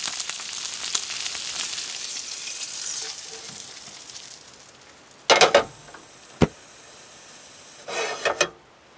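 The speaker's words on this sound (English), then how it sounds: "I like using butter to fry them up because you get the skin nice and crispy." Freshly caught fish frying in butter in a pan, giving a steady crackling sizzle that fades, then sharp bursts of spitting and hissing, likely as the fish is moved or turned.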